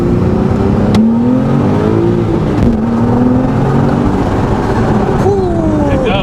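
A Porsche 911T of the 991.2 generation accelerates hard, its engine revving up through the gears with rising pitch and brief dips at each shift, loud and close from the cabin.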